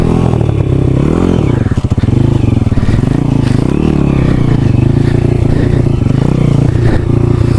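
An enduro dirt bike engine with a new motor runs loud and close, its revs rising and falling unevenly over a steady throaty drone, with some clatter and scraping along the way.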